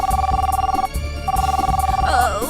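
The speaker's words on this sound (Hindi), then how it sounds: "कहीं से फोन की आवाज आ रही है" A telephone rings with a repeating electronic tone, loud and close over a busy background score, with a brief gap before the ring resumes.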